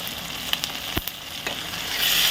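Peanuts and sesame seeds sizzle and fry in a pan for egg gravy curry, a steady hiss with a few sharp pops and crackles, close and fairly quiet.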